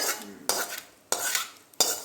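A spoon scrapes and stirs horse gram chutney inside a pan in three distinct strokes, close and crisp, with quieter rustling between them.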